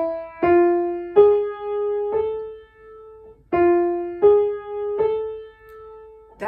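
A harmonic minor scale played note by note on a plucked or struck pitched instrument, eight clear tones rising with a wide step between the sixth and seventh, each note ringing and decaying, close and alone.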